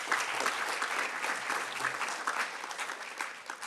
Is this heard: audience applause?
yes